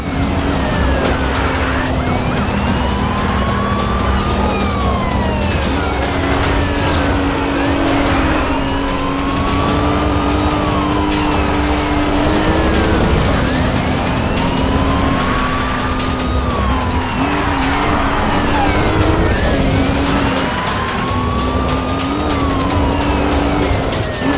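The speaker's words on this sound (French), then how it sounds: "Code 3 en cours sur une Lamborghini Gallardo, dernier modèle." Police pursuit of a late-model Lamborghini Gallardo in the video game Need for Speed Rivals, with a loud steady engine roar, wailing sirens sweeping up and down, and tire noise running continuously without speech.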